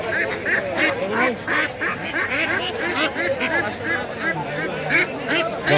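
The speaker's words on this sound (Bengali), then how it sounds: "দেখুন ডানে বামে প্রচুর হাঁস বিক্রি হচ্ছে" Many ducks quack in rapid, overlapping bursts at a busy rural Bangladeshi poultry market, loud and close, with people's chatter and crowd babble running underneath throughout.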